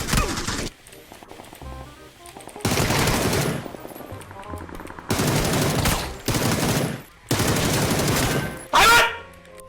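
Automatic gunfire from the video game PUBG comes in loud, dense bursts separated by short pauses, with players talking excitedly between and over the shots.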